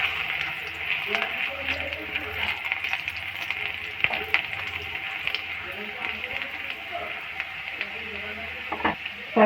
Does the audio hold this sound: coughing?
no